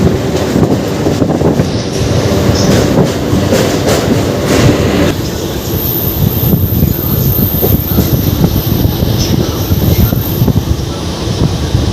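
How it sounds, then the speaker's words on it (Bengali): The Mumbai-Howrah Mail express train passes close by on a neighbouring track, a loud continuous rumble with rhythmic wheel clatter and wind buffeting the microphone throughout. "ওদিকে একটা এক্সপ্রেস যাচ্ছে, ওটা হলো মুম্বাই মেল।"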